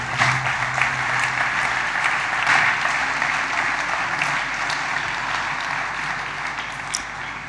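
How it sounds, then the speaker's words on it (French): An audience at a mayors' urban-planning award ceremony in the Rhône applauds a winner, with continuous, even clapping and a few brief voices near the start before the applause fades gradually. "Sous vos applaudissements."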